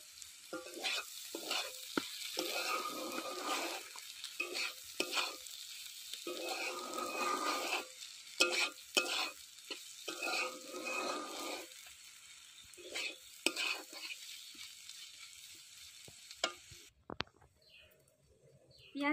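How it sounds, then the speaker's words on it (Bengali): Prawns fry with spring onion stalks in a pan, giving an uneven, crackling sizzle broken by stirring scrapes that fades near the end. "পেঁয়াজ কলি দিয়ে চিংড়ি মাছ ভাজাটা আমার হয়ে গেছে"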